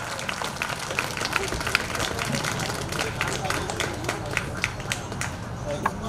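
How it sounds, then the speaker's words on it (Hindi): Audience at a Guru Ghasidas Jayanti gathering clapping, a steady dense patter of many hands throughout, with voices talking over it. "एक बार जोरदार ताली हो जाए।"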